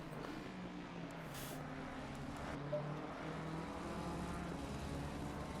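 A Ford race car engine screams past on a circuit during a race broadcast, a steady loud roar of engine noise with a brief swell midway through, heard continuously without talk.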